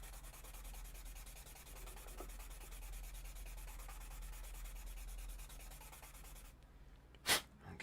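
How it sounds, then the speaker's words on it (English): A 400-grit sanding block rubs steadily back and forth across a surface, a soft, continuous scratchy sound heard up close, ending with a single sharp tap. "pull out the 400 sanding block, and then let's just go ahead and start to take this down"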